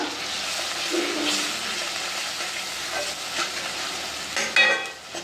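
Turmeric, coriander powder and red chilli masala being stirred as they fry in a pan for a rustic Maharashtrian Bhogi vegetable dish, a crackling sizzle with repeated scraping and clinking strokes of the spoon, louder toward the end.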